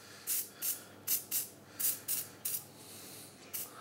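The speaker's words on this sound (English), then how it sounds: "And the idea is you spray the apple green." Cocoa butter spray hisses from a can onto an apple in short, even bursts, about nine quick sprays in a steady rhythm, fairly quiet and close, with no talking.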